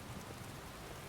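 Steady rain falls in Skyrim, a soft, even hiss of drops on surfaces with no breaks, faint and unaccompanied.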